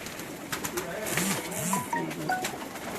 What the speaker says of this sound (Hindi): ये नफलों वाला कबूतर